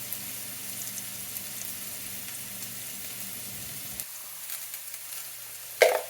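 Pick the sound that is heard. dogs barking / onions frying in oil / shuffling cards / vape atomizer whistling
onions frying in oil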